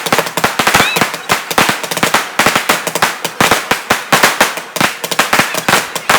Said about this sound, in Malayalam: അപ്പോൾ ഇതാ വെടിക്കെട്ടും ഏകദേശം കഴിഞ്ഞിട്ടുണ്ട്.